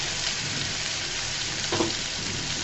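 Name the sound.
prawns frying in oil with red chilli powder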